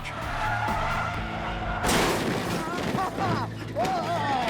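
A MythBusters car charges down a runway and rams another car, slicing its rear tire and scraping along its side. The engine roars loudly and steadily, then there is a sudden crunching impact with tire skids and squeals, and voices break in over the noise.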